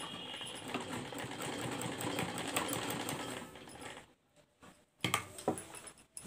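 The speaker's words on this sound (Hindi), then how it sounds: "इस तरह से हम पूरे पर सिलाई लगाकर इसे तैयार कर लेंगे।" A sewing machine stitches lace onto a kurti neckline, running in a steady rapid whirring chatter for about four seconds, then pausing to near silence before a few short bursts and clicks resume, close and clear.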